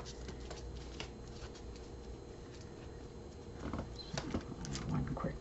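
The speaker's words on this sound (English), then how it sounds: "One quick shuffle." Oracle cards being shuffled: a quiet, continuous papery riffling and patter that grows a bit busier toward the end, with no talking over it.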